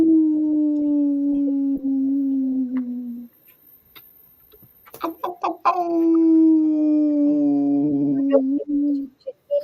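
A dog howls in long, sustained tones, breaks off, then yelps in short bursts before settling into another drawn-out howl. It sounds close and loud, with faint voices now and then.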